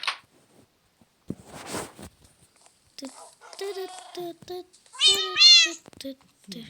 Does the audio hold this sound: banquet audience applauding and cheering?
no